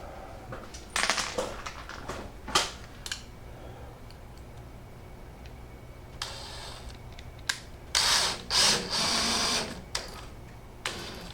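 A drill drives a screw into a wooden frame for a micro camper, giving a short, loud mechanical whir late on. Scattered knocks and handling clatter in a quiet workspace come before it.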